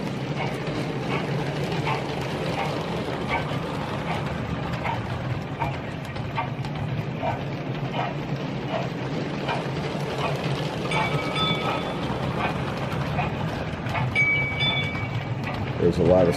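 Bluetooth toy train running with its built-in sound effects, a steady mechanical rail-like rumble with clattering and occasional electronic tones throughout, fairly loud and continuous.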